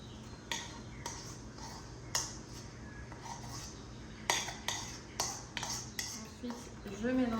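Pumpkin cake batter being mixed in a bowl, with soft scraping and a series of sharp utensil clinks against the bowl, spaced irregularly and closer together toward the end.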